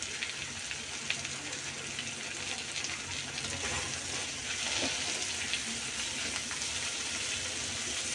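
Okra frying in a pan sizzles steadily and densely for the whole stretch, a close, even crackle with no voices over it.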